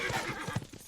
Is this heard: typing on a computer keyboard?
no